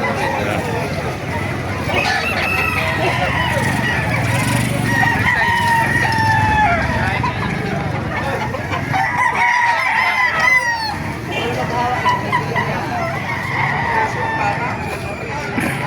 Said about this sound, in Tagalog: Kasi natin mga manok dito para makita nyo.